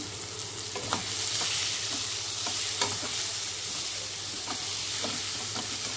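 Sliced cabbage frying in oil in a pan with mint and coriander leaves for egg mushroom biryani, giving a steady close sizzle broken by repeated scraping stirs of a spoon.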